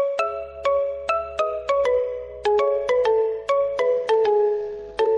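A bright melodic phone ringtone plays alone, a quick sequence of chiming tones repeating in a steady pattern.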